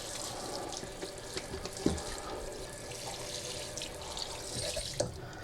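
Charred chilies rinsed under a running kitchen tap, a steady close hiss of water splashing into the sink with small drips and splashes, no talking.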